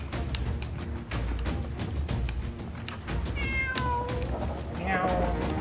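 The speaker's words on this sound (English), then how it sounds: "He's meowing right in my ear." Cat meowing in the Sea of Thieves pirate game, several upward-gliding meows close and loud over dense game sound effects and thumps, with people talking.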